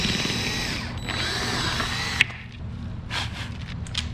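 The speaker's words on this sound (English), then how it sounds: "We drill a hole in the 1x2 and then secure it on there." A power drill boring a hole through a 1x2 wooden board, loud and close, with a steady whining motor that cuts off abruptly, followed by a few brief handling clicks.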